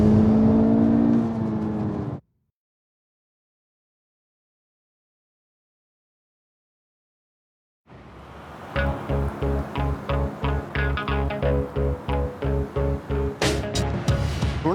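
A 1972 Nissan Skyline runs after a long stretch of silence, its engine note loud and close with steady pulsing rhythm and a few sharp high accents.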